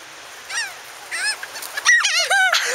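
Seagulls squawk and cry while snatching food from a family, with repeated harsh descending calls in bursts, several loud and close, overlapping near the end.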